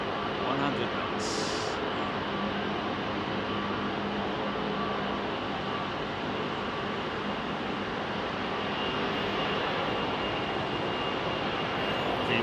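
Jet engines spool up to full takeoff thrust on a departing airliner at Heathrow, a steady, dense roar that holds evenly throughout with a faint murmur of voices beneath.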